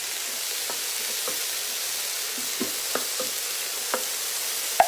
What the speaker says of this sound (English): And give it a stir down in there.